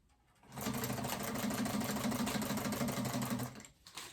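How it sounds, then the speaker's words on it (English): A sewing machine stitches straight across the bottom of a fabric phone pouch, a close, steady, fast whirring buzz that runs for about three seconds before stopping. "I'll go ahead and sew across the bottom and kind of consider it like a basting stitch."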